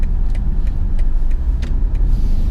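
A BMW G14 840i M Sport convertible, a two-ton GT cruiser, drives along with a steady low engine rumble mixed with road and wind roar, loud and continuous throughout.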